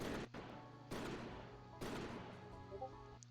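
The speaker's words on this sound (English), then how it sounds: "His shotgun roar is almost as loud as the booming thunder." Repeated shotgun blasts fired in a stormy scene: three sharp, loud booms about a second apart, each trailing into a ringing decay with faint background tones.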